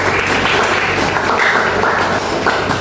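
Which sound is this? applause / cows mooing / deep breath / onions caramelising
applause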